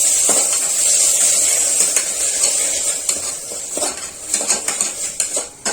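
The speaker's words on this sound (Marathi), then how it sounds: "आता मी त्याच्यामध्ये टाकणार आहे बारीक चिरलेला टोमॅटो." Chopped tomato stir-fried with onion in a pan, with a continuous bright sizzle and repeated metallic scrapes and clanks of a spoon against the pan, growing choppier toward the end.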